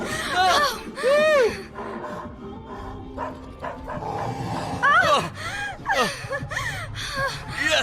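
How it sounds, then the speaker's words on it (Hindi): A dog barks repeatedly in loud, close bursts, some drawn out into howling yelps, interleaved with someone speaking. "अभी भी भौंक रहा है, चुप हो जा।"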